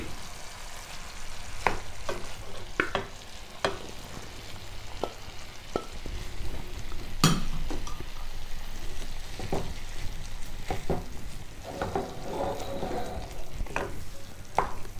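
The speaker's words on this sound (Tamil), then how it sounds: "நல்லா ஒரு சில நிமிடங்கள் கலந்து விட்டால் போதுமானது." Mashed yam curry is stirred in a pan with a spoon, producing a soft continuous sizzle under repeated scraping strokes and occasional sharp taps of the utensil against the pan, close and moderately quiet with no talking.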